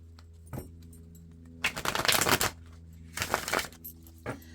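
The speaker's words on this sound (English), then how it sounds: "One more shuffle." Tarot cards are shuffled in two bursts of riffling, papery flutter, each lasting about a second, with a few single taps between them. The sound is close and quiet, and no one talks.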